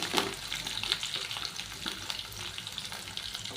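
Onions, green chillies and curry leaves sizzle steadily in hot oil in a pan, a close, continuous crackling fry with occasional stirring scrapes and no talk.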